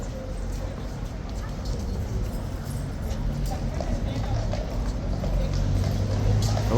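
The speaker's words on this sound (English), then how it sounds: "Oh, Horsey wants to come over and say hello." Horse hooves clip-clopping on the ground at Horse Guards in London as a horse walks over, steady near hoof strikes under continuous crowd chatter and street noise.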